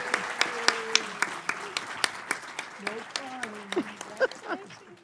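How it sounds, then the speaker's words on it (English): Applause for an honoree at a county Board of Supervisors meeting, clapping sustained through the clip with speech harmonics over it and an occasional voice talking on top. "Let's give her a round of applause."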